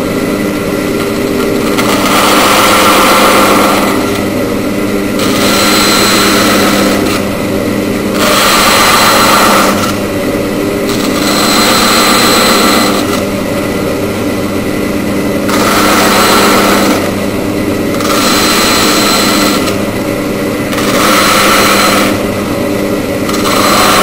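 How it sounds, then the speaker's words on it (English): A bandsaw runs steadily while cutting dovetails in wood for a drawer, its motor a constant loud whine with repeated swells every couple of seconds as the blade bites through each cut; no voices. "the bandsaw, we'll just turn this on and you can watch what I'm doing"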